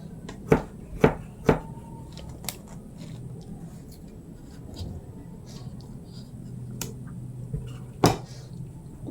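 Knife chopping food, likely garlic, while preparing ginataang kalabasa with shrimp, a few sharp close chops in quick succession, then a quiet stretch and one more chop later over a low background hum.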